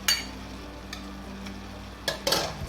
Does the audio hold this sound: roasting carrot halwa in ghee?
yes